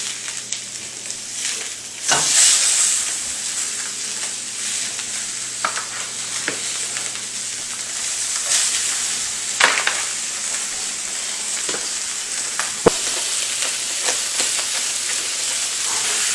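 Keto stuffed chicken breasts hit a very hot pan and sizzle steadily up close, a continuous frying hiss broken by a few sharp pops and clinks.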